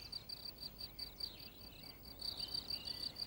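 Crickets and grasshoppers chirp in rapid high pulses, fairly faint, with a soft background hiss and no talking.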